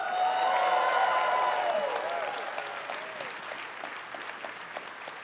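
An audience at a convention closing ceremony bursts into loud, dense applause that holds strong for a couple of seconds and then thins out. Some cheers and a brief whistle rise over the clapping.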